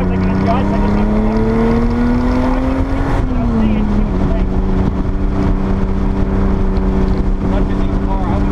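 Porsche 930 Turbo engine droning steadily on a race track at Pocono, its pitch rising then dropping as it shifts, loud and continuous from inside the car with talk over it.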